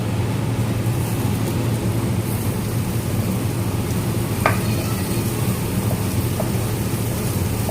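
Onions drop into a hot pan over softened garlic and ginger for a prawns roast, giving a dense, continuous sizzle with an occasional faint clink of a utensil.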